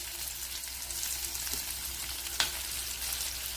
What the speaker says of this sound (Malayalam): ഇതിലേക്ക് ചെറിയൊരു പീസ് സവാളയും കൂടെ ചേർത്ത് കൊടുക്കുക.